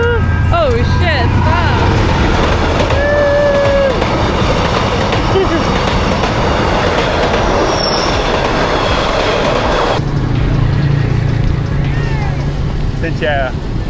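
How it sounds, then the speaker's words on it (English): A train rumbles past on the rails in Hanoi, Vietnam, loud and close, with wheels squealing in high tones over a steady clattering roar. "The train's coming."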